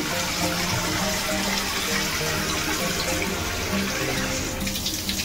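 Water pours steadily into a cooking pan while Muga dal with cabbage is being made, a continuous close splashing rush that stays loud and even throughout.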